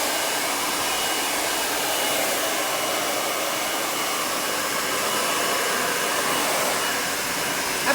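A hair dryer blows steadily and loudly on hair during a bob haircut, a constant broadband whoosh lasting the whole stretch with no talking.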